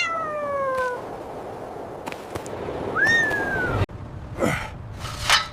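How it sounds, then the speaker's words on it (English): A rare savanna cat, stuck up high after escaping, gives a series of loud, close, drawn-out meows and wails, with short breathy gaps between the calls. "He is President Arthur's rare savanna cat."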